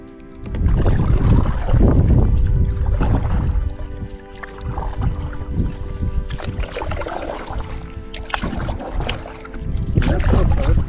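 Oars work a small boat toward a mangrove shoreline in shallow water off the Yucatán, with repeated splashes and gurgling strokes close by under wind noise on the microphone.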